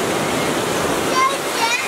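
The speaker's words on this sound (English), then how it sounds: "Oh yeah, waterfall." Steady rushing water from a waterfall on a black sand beach in Hawaii, a broad continuous hiss close by, with faint voices and brief high tones over it.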